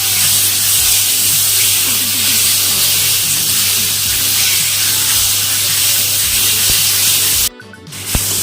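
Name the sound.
raw mango frying with salt and turmeric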